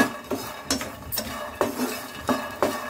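Peanuts roasting in a pan, stirred with a metal utensil: a series of sharp clinks and scrapes against the pan arriving in irregular bursts about half a second apart, close and moderately loud.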